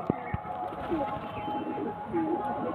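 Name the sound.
male pigeon cooing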